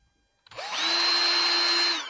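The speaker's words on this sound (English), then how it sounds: "I went ahead and drilled the teeny tiniest of little holes just to help get my screws started in the center" A power drill bores a tiny pilot hole in wood, giving one close, steady whine that rises quickly at the start, holds for about a second and a half and then stops.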